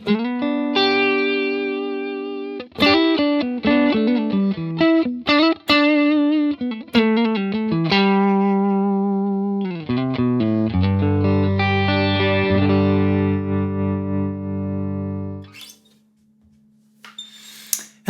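Guitar played through a Fractal FM3 with a homemade auto-wah filter effect: plucked notes and chords that sweep and quack with distortion and chorus, loud and up close, ending in a sustained chord that fades out.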